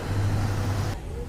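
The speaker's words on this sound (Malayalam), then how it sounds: "ഇത് നമ്മളെ ഇവിടെ വരുന്ന എപ്പോഴും ഉള്ള ബസ്സാണ് കേട്ടോ" A local bus rumbles past on a roadside in Kerala, a close, steady low engine drone with road noise that drops away abruptly near the end.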